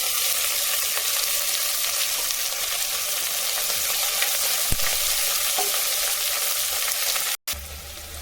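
Onions and curry leaves fry in a pan for coconut milk rice, giving a steady, loud sizzle that runs unbroken, with a few faint stirring knocks and a brief cut near the end.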